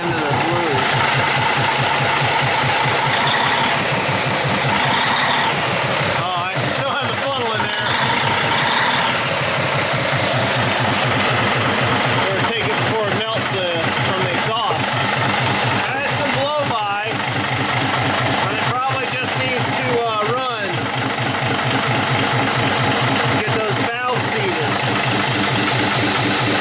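A 1953 GE diesel locomotive engine idles steadily with a deep, continuous rumble and knocking pulse, rising slightly as it revs, loud and close throughout while someone talks over it.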